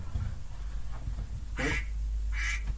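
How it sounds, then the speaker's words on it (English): A duck quacks twice in bright, nasal bursts, a short call followed by a second one about a second later, heard fairly close over a steady low background hum. "Where's that duck?"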